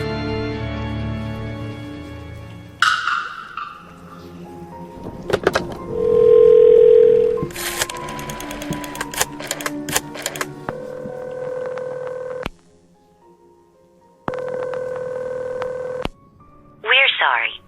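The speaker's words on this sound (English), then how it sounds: "I think you'll find the phone is working now." Telephone dial tone and dialing in the Phantasmat video game: a short ring, a series of dialing tones and a steady held dial tone, a pause, then the tone returns, with a voice speaking between.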